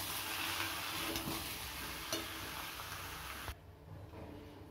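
Jackfruit curry with sauce and ground garam masala sizzles in a pan, a soft continuous frying hiss with faint stirring scrapes that drops away near the end.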